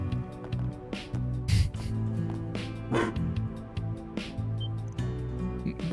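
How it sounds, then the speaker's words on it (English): Dog barking in the video game Trails Through Daybreak, a cluster of close yips and barks over a steady game music bed, heard without any talking. "Oh, it's just a dog."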